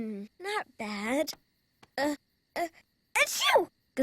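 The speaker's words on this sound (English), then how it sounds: "Achoo! Gesundheit." A cartoon character sneezes loudly and theatrically, a voiced wind-up followed by a sharp burst, with other voices speaking around it.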